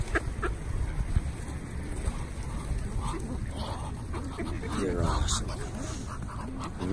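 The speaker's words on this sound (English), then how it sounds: "Look at all the ducks back there." Ducks quacking at an old mill pond, scattered quacks and squawks mixed with water and outdoor noise, with people talking loudly over them throughout.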